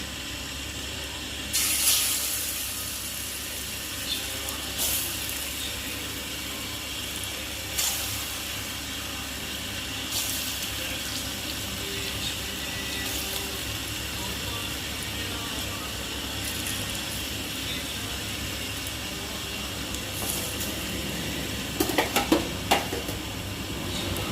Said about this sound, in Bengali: এগুলো একটু হালকা আঁচেই ভাজতে হবে